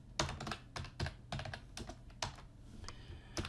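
Keys clatter on a computer keyboard in short bursts of quick taps separated by brief pauses, close and fairly quiet, with no speech.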